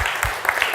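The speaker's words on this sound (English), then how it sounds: "Let's give him a round of applause." A conference audience applauds after a speaker's presentation, a short burst of dense clapping that fills the room at full volume.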